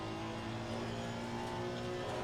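A Honda race car in a racing video game runs at Silverstone, its engine holding a steady, loud sustained drone with layered harmonics throughout, no talk over it.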